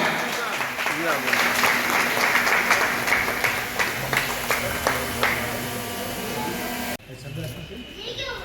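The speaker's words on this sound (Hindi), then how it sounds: "आपकी भरपूर तालियों में खड़े होकर इस्तकबाल कीजिएगा" Audience applause welcoming a guest at an iftar party: sustained crowd clapping with a low hum beneath, fading near the end before a sudden cut to quieter room sound with a voice starting.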